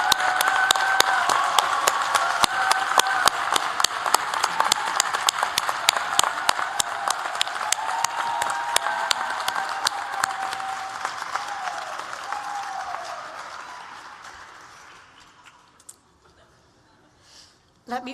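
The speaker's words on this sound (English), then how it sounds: "So can I please ask the audience to join me in applauding our students' success." Audience applause at a university graduation ceremony, a dense sustained clapping from a large crowd that starts strong, slowly thins out and fades away near the end.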